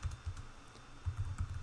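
Soft computer-keyboard typing in short bursts of quiet key taps, fairly close, with no voices.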